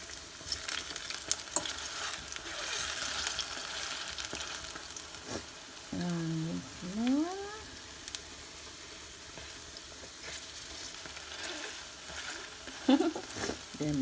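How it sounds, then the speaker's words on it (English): Banana fritters frying in hot oil over reduced heat, a steady soft sizzle and crackle running throughout, with a few brief faint squeaky sounds in the middle and near the end and no speech. "They're making noise."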